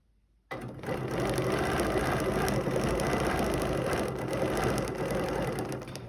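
A sewing machine runs steadily while stitching a quilt guided by a ruler, a continuous close mechanical whir starting after a brief silence and holding at an even level throughout.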